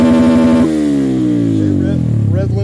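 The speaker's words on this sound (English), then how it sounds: "and you'll see it hit rev limiter" A Honda Grom motorcycle engine, clutch in and two-step off, is held against its 9,750 RPM rev limiter, giving a loud, steady, buzzy drone that stutters at the cutoff. Its pitch then drops sharply and winds down as the revs fall away.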